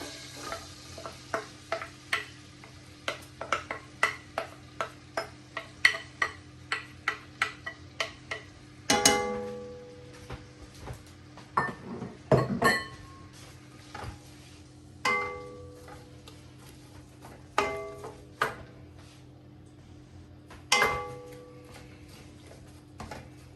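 Chopped onions, three medium ones, cook in a pot for a spice-pickled chickpea rice, with a faint steady sizzle and repeated close scraping and knocking of a spoon stirring, plus a few louder clatters.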